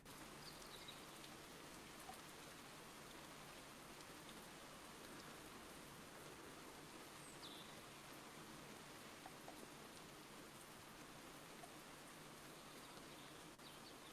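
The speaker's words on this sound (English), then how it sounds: "you probably hopefully hear the sounds of rain coming down" Rain comes down steadily and softly, a faint, even hiss of drops that continues throughout with no voices over it.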